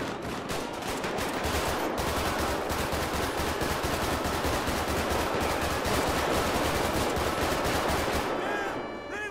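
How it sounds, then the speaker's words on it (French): Sustained automatic machine gun fire in GTA 5, dense rapid bursts of heavy weapons fire, loud and continuous for several seconds with no pause, tapering only at the very end. "On nous tire dessus à l'arme de guerre."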